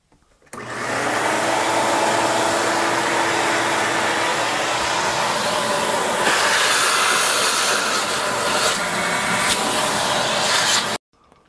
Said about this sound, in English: Let's get rid of all this sawdust here. So I'm going to get my shop vac.